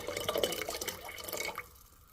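Coconut water pouring into a pot of water warming over a low to medium flame for a lemongrass, burdock root and basil soup, a close splashing trickle for about a second and a half before tapering off.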